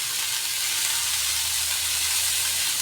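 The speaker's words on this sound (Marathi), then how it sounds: "आता ती चांगली हलवून घ्यायची आहे. हे सर्व चांगलं हलवून घ्यायचे आहे." Dill greens bhaji being stirred in a pan, a steady soft sizzle and hiss running evenly throughout with no distinct scrapes, moderately loud and unbroken.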